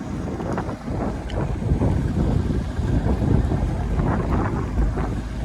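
A fishing boat out at sea pitching up and down on rough water, with loud buffeting wind noise and dull thuds and sloshes throughout, close and continuous.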